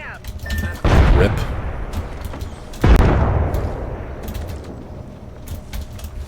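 Two loud booming blasts, the first around one second in and the second near three seconds, from grenades exploding in a battle-royale video game, each trailing off into rumbling noise.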